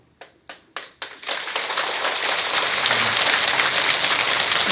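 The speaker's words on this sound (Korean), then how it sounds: "공연히 박수만 치지 마시고" An audience at a Buddhist dharma lecture bursts into applause, a few separate sharp claps at first that quickly swell into loud, dense, sustained clapping from many hands.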